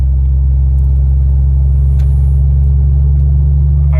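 A stock-fuel 6.7 Cummins diesel truck with an S472 turbo drives along, giving a loud, constant low droning rumble with no speech.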